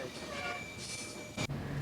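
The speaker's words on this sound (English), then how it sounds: "There's a number of tunnels that we go through, and the train clings precariously to the cliff's edge." Passenger train running along cliff edges through tunnels on the Vancouver to Banff route, a steady loud rumble with a high tonal whine and a sharp clatter near the end.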